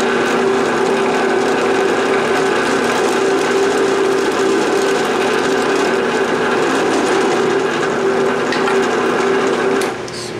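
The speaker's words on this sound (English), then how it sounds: "here's the real test to see if we can drill a hole down the middle of something so narrow" A drill runs continuously at a steady high whine, boring a hole down the middle of a narrow piece of wood for a round cribbage board, a constant grinding tone for about ten seconds before cutting off.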